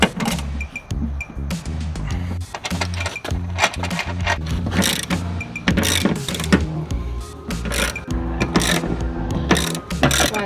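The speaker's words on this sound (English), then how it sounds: "Why don't we go ahead and put these 7 rivets in" Seven rivets go into a Jeep Wrangler JK fender during an aftermarket fender install: a rapid, close run of mechanical ratcheting clicks and snaps that repeats steadily, with no talking.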